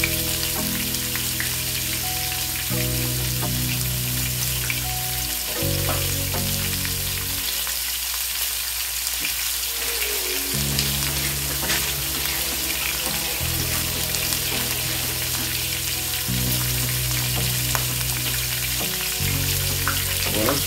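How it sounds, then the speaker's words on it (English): Steaks frying in a pan give a loud, dense, continuous sizzle with a bass music track running underneath the whole time. "I'm gonna cook these steaks till they're done"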